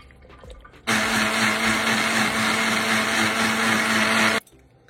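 A kitchen blender grinds a green smoothie made with cooled boiled water, starting abruptly into a loud, steady high-speed whir for about three and a half seconds before cutting off.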